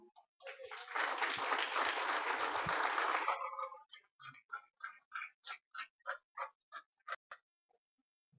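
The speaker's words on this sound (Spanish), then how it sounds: "¿Alguien podrá dar un aplauso?" Church congregation applauding in a sustained dense burst for about three seconds, then breaking into a few slower, scattered rhythmic claps that fade out, with no talk over it.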